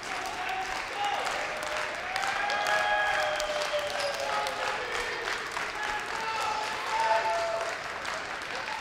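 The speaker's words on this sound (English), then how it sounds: "Crowd getting into it a little bit, trying to give them some support" A volleyball crowd claps and cheers in a gym. The applause is steady and spread out, with raised voices, and a commentator talks over it.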